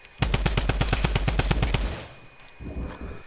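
Fortnite Season 9 gunfire: a fast, loud, evenly spaced automatic burst of about fifteen shots lasting under two seconds, followed by quieter game noise.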